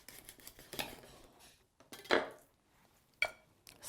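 A knife cuts and separates the joints of a capon on a board, giving a few soft scraping, clicking cuts with sharper clinks of utensils between quiet pauses, close and fairly faint.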